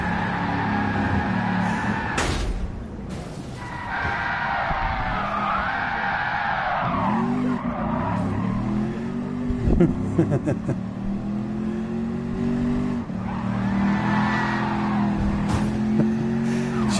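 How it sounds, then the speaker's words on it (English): Cars in a racing video game skid and screech with tires squealing and engines revving, ending in a crash, all under continuous overlapping talk from players. "Seamus has just crashed on his own."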